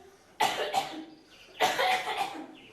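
Two separate hoarse coughs sound up close about a second apart, each a sharp burst that trails off, loud against a quiet background.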